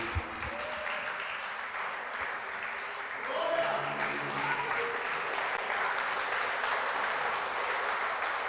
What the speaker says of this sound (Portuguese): Vamos ficar de pé e aplaudir o Senhor Jesus.